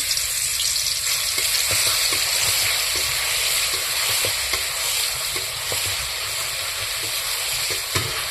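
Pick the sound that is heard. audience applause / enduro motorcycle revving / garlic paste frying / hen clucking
garlic paste frying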